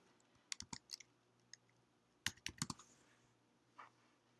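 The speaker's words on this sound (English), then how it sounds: "And then I'll just type in a name." Short bursts of close, quiet clicking on a computer keyboard as a name is typed, with a few scattered keystrokes and brief pauses between clusters.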